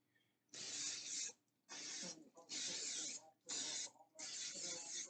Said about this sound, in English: we got cooking spray on this bad boy